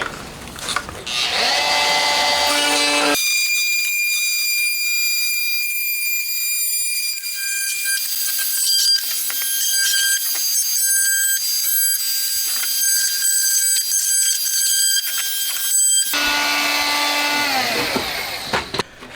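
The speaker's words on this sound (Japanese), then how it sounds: "いらないところを切りますね。" A power tool cuts away excess material from a handmade replica seat for a Honda RC146 motorcycle, giving a loud, sustained high-pitched whine that runs for about thirteen seconds before stopping, with no speech.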